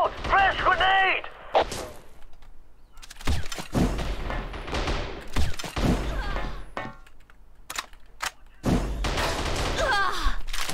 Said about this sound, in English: Watch out! Fresh grenade!